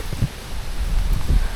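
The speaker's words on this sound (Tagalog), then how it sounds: "Pero ang lakas pa rin talaga ng hangin." Strong wind blowing across a hillside car-camping site, buffeting the microphone with low, gusty rumbles and rustling, continuous and close without any voices.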